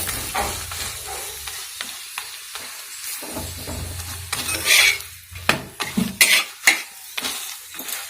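A spinach paratha fries in a little oil in a pan over a high flame, giving a steady close sizzle broken by sharp scrapes and clinks of a utensil against the pan toward the end.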